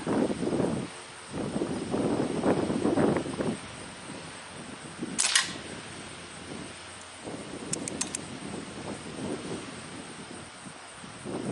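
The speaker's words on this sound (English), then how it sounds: "So take a few more shots just to see what happens." An air rifle fires JSB Stratton .177 diabolo pellets outdoors in wind. Two sharp, short cracks stand out several seconds apart over steady gusting wind noise, with no talking.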